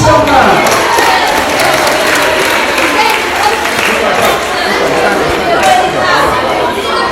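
A school audience applauds a young volunteer called up front, dense clapping mixed with crowd chatter and some cheering, loud and sustained throughout.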